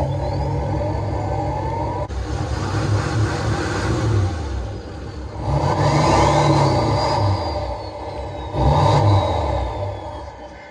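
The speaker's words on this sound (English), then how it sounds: "You guys probably want to hear the truck" A Nissan Titan pickup with a Cummins diesel engine revs in close bursts, a sharp climb, two strong swells and a shorter final push, each falling back to a steady idle, with no talk.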